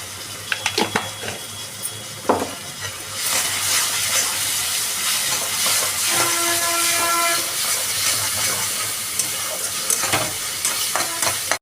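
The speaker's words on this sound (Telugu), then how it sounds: "పేస్ట్ వేసి బాగా కలుపుకొని ఫ్రై చేసుకుందాం" Coriander rice paste frying and being stirred in a pan, with steady sizzling and scraping that starts after a few sharp clinks and continues close and moderately loud.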